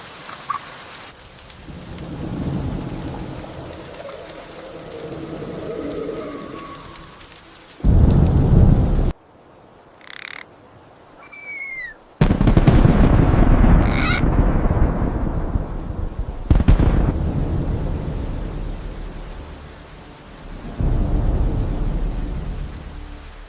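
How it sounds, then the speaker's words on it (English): A jungle thunderstorm around a harpy eagle nest, with steady rain hiss, gusts of wind and heavy thunder bursts that come and go, and a few bird calls in a quieter stretch. "Lightning flashes across the sky, illuminating the nest for a brief moment before darkness returns"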